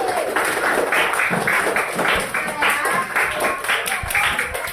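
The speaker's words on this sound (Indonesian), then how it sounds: "tepuk tangan semua Ali." A classroom of people clap in scattered, uneven bursts, with voices chattering underneath the applause.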